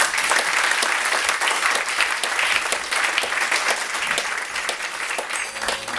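A crowd at a rap science show claps and cheers after a question session, sustained dense applause, loud and continuous for several seconds, with no talking over it.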